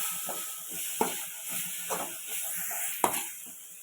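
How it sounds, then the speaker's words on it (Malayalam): Crushed ginger and garlic sauté in a pan, a soft steady sizzle broken by a few sharp scraping stirs of a spoon against the metal, fairly close and alone. "ഈ വെളുത്തുള്ളിയുടെയും വെളുത്തുള്ളിയുടെയും ഇഞ്ചിയുടെയും പച്ചമണം മാറുന്ന വരെ ഒന്ന് വഴറ്റിയെടുക്കാം"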